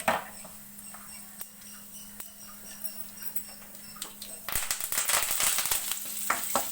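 Mint tossed into hot oil in a kadai for a pudina rice tempering: a quiet background sizzle with scattered ticks, then a louder, busier crackle and stir-scrape in the last couple of seconds.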